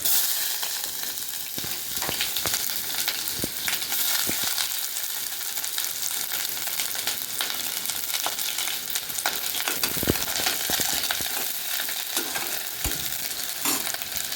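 Garlic and onion frying in a pan give a steady, close sizzle throughout, broken by occasional clicks and scrapes of stirring, with no one speaking.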